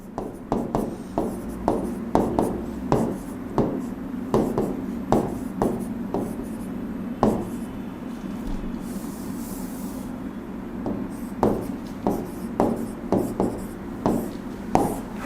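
Pen strokes across paper while a math solution is written out by hand, a steady run of short, close scratches and taps that pauses briefly near the middle before resuming.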